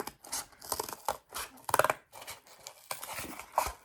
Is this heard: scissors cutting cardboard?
yes